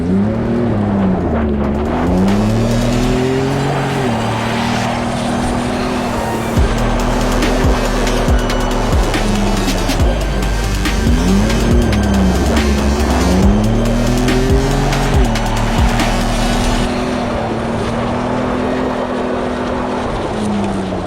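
2nd gen Ford Raptor truck driving hard, engine revving up and down in repeated sweeps with tire squeal mixed in, loud and close throughout with no talk.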